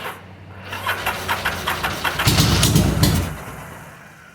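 A Yamaha Virago bobber motorcycle engine idles rich on choke with a close, lumpy pulsing that swells briefly before settling.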